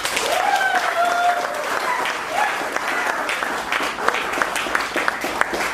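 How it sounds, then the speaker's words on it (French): Guests applauding at a civil wedding ceremony at the Moungali town hall in Brazzaville, a steady round of clapping from a nearby crowd lasting throughout. "Sous vos applaudissements."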